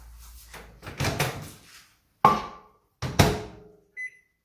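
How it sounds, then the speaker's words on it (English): A microwave oven door clunks open and shut with sharp thumps, followed by a short electronic beep from the microwave. "We're going to pop this into the microwave and we're going to heat it up."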